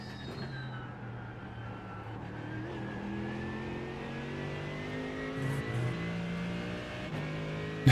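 A Mustang GT3 race car engine in the iRacing video game drones and climbs through the gears, its pitch rising steadily and then dropping at each shift, loud and continuous.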